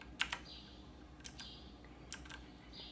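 A few sharp clicky keystrokes on a T-Dagger gaming keyboard come in small pairs and clusters against a quiet room background, close and crisp with no speech.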